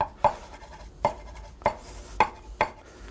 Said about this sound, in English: It makes chopping very quick because you just use a rolling motion, chop back and forth